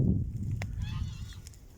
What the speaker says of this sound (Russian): Вот гусь орут.